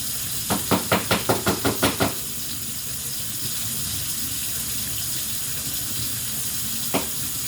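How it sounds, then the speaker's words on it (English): Tap water runs into a kitchen sink during rinsing, opening with a quick train of about eight sharp splashy bursts, then a steady hissing stream with one more splash near the end, no talking. "Wash the sink out really good."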